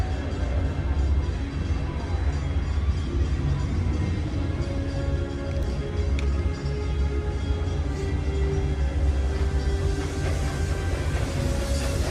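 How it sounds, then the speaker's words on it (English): A Magic Kingdom train rumbles past nearby, a steady low mechanical drone with faint rattles and clicks under the theme park's ambient noise, continuous throughout with no talking. "Hear the train going by."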